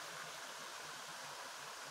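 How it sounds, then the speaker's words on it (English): Tinker Falls waterfall in Tully, New York: a faint, steady broadband rush of falling water, unbroken and even throughout, with no voices. "Here I am at these waterfalls. You see this beautiful waterfalls."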